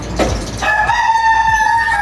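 Chickens in a coop, a loud rooster-like call rising and holding over a steady background murmur, close by and clear.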